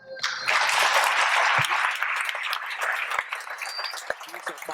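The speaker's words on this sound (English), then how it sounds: "Give a round of applause" Audience applause at the Orange County Conservation Corps 2015 graduation ceremony, a loud continuous burst of many hands clapping that tapers slightly toward the end.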